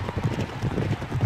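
Horses gallop in a turf race in the video game Derby Owners Club, a rapid, rumbling drum of hoofbeats rolling steadily and somewhat muffled, heard alone without talk.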